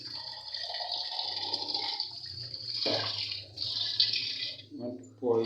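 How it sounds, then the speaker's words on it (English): Water runs and splashes over goat meat being washed for a stew in a home kitchen, a continuous hiss and gurgle with irregular splashes, and a person speaks over it. "You want to pour in some water."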